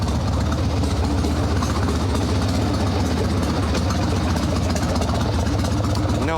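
A freshly built Evo engine in a Sportster chopper idles with the choke off, a close, continuous low rumble with a steady, loping pulse throughout.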